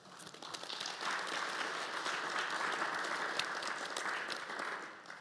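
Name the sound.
audience applause at business forum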